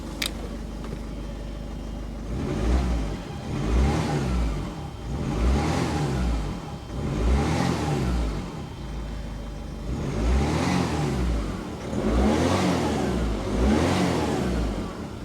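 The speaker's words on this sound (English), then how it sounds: "Let's give it a little bit of a rev." A Ford Fiesta mk6 1.6 TDCi diesel engine after a glow plug replacement idles, then revs up and falls back about six times in a regular rhythm, each rise a swelling diesel roar heard up close.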